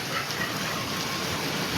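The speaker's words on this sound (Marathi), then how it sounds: "बापरे नेमका आजच पाऊस पडायला" Heavy rain falls on a street as a dense, steady hiss, close and continuous, with no talk over it.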